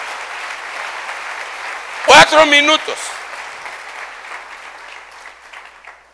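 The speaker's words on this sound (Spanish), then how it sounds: "Denle un aplauso bien fuerte al Rey" Audience applause at a church sermon, a steady clapping wash that runs throughout, with a voice briefly speaking over it near the middle before the clapping fades toward the end.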